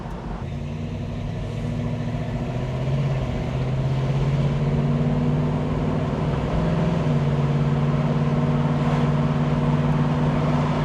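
Blower motor running inside a 1975 Pontiac Trans Am with a 455 cubic inch engine, a steady fan whir layered over the car's low, continuous engine hum, close and moderately loud.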